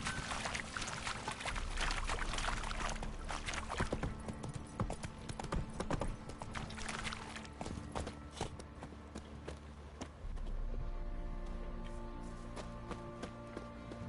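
Roach, a horse in The Witcher 3, trotting with a steady run of clip-clopping hooves, moderately loud and close against a quiet game backdrop, the rhythm pausing briefly before picking up again.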